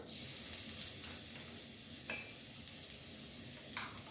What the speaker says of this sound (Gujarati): અંદર હિંગ નાખીને આપણે કાંદા નાખીશું અને લસણ નાખીશું